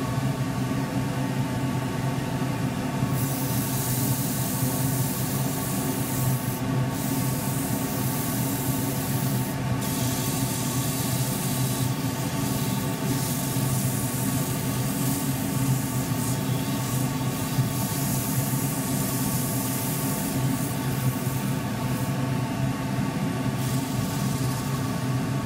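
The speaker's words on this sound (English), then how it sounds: "Okay, so sand that." Sandpaper at 180 grit hisses steadily against a spinning forest sheoak flat box on a wood lathe, a continuous broadband rush over the motor's hum with slight changes in pressure.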